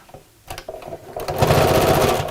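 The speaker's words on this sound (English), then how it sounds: "So let's just put a few stitches in the top of the handle to secure that." A sewing machine puts a few stitches into the top of a recycled denim bag handle, starting with short hesitant bursts and then running in a steady, close, fast whirring stitch.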